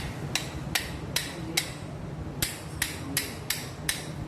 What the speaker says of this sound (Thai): แล้วก็เอาด้ามค้อนเนี่ยตอกเข้าไป